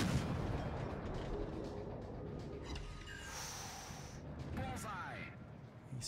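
Heavy naval gunfire from an enemy warship in World of Warships, with deep booming salvos rolling over a dense, continuous rumble of battle noise and sea ambience.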